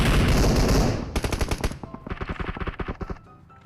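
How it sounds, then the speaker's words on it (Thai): Rapid gunfire from a PUBG Mobile match, a loud dense burst giving way to sharp rhythmic shots with bullets whizzing past, the cracks tailing off toward the end. "กระสุนเฉียวหัว น่าจะอยู่ไกลๆแน่นอน"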